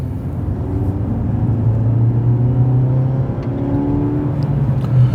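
A Rover 75 with a 1.8 engine hums steadily while driving, a loud even rumble with slight rises in pitch as the car moves along.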